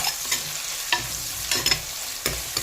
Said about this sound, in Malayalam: 2 പച്ചമുളക് ഒക്കെ കൂട്ടൊന്ന് വഴറ്റിയെടുക്കാം നമുക്ക്.